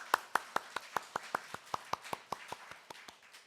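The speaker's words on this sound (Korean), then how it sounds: "그 하나님 앞에 영광의 박수 올려드리도록 하겠습니다." A congregation claps together during a church worship service, about sixteen sharp, evenly spaced claps in a steady rhythm that slowly fade, with no voices over them.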